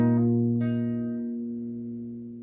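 A guitar note played with pull-offs by the index finger rings out, with a softer second pluck sounding as the fretting finger lifts and the tone sustains and slowly fades, alone and fairly quiet.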